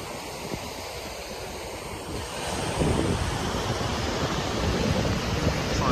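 Ocean surf rolls onto a quiet beach in Sierra Leone, a steady wash of breaking waves with wind buffeting the microphone, swelling louder about halfway through, no voices.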